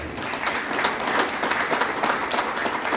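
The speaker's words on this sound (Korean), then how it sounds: "뜨거운 환영의 박수를 부탁드리겠습니다" Sustained applause from a breakfast lecture audience welcoming a speaker, dense steady clapping filling the whole stretch with no voices on top.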